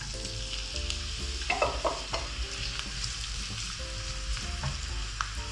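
Finely chopped onion sautéing in hot oil, a continuous close crackle and sizzle with scraping stirs and a few sharper spatters through the middle.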